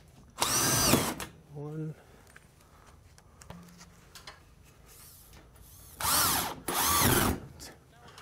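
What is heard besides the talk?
power drill driving drywall screws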